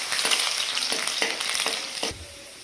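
Garlic cloves sizzle loudly in hot oil in a kadai for a lauki dal tempering, a dense crackling hiss with a few stirring scrapes before the frying settles quieter.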